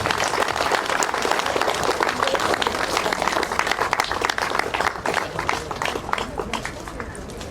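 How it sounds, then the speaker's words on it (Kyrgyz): An audience applauds at an award ceremony where honorary medals are presented, sustained dense clapping from a large crowd that continues throughout, with voices mixed in. "Бир кол чаап коюңуздар."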